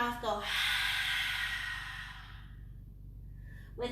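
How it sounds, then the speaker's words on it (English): During an energizing yoga breathing exercise, a long, loud open-mouth exhale follows a short intake of breath. The airy rush fades out slowly, and a voice comes back in briefly at the end. "inhale through your nose, fill full, and then open mouth, go"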